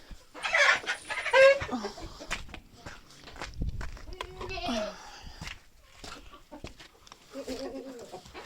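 Hens clucking inside a chicken coop, with a few short bursts of clucking and scratchy footsteps over about eight seconds, while a person speaks quietly nearby.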